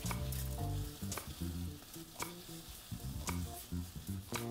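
Steak and shallots frying over raised heat in the Chef Life restaurant simulator, a steady loud sizzle with clinking utensil hits and tonal game-music notes running underneath.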